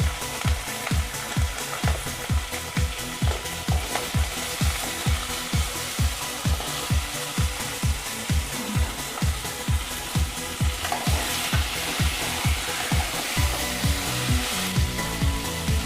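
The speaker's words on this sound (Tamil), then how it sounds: "நம்ம வெட்டி வச்ச காய்கறி எல்லாத்தையும் இதில் போட்டுறணும்." Chopped vegetables for sambar frying in a pan, a steady close sizzle with rhythmic stirring or scraping strokes repeating throughout, no talk.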